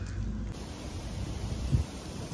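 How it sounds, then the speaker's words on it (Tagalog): Steady wind in Gambia buffets the microphone with a constant low roar and hiss, no voices, throughout the short stretch. "Masyadong mahangin at saka maalikabok."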